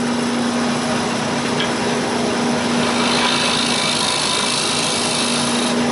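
A steady, loud whir of a wood lathe with a scraper cutting a microwaved ash bowl continuously, a constant hum underneath and gritty shaving noise throughout, no pauses.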